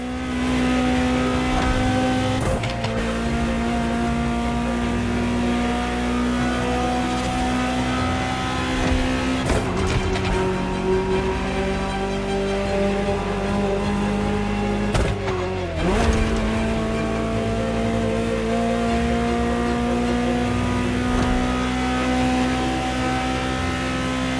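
A loud Ferrari sports-car engine in a video game holds a high, steady whine, with sharp gear-shift drops around the middle and again later before climbing back to a sustained roar.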